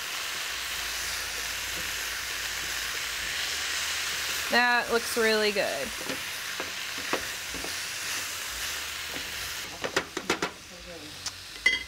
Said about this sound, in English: Everything's steaming up now.